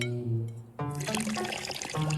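Water poured into a baking mixture of salted chips and baking soda in an animated My Little Pony episode, a short splashing trickle that starts abruptly after a brief sung tone and continues to the end.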